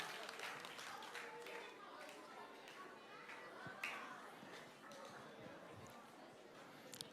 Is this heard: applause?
yes